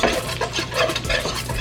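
Half a cup of flour cooking in about three tablespoons of fresh grease, stirred steadily for a meatball dish, giving a close, continuous scraping and rustling with a soft sizzle underneath.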